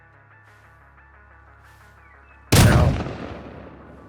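A double-barrel shotgun fires once in the Rust video game, a single loud, sharp blast that decays over about a second and a half, following a quiet stretch with faint musical background tones.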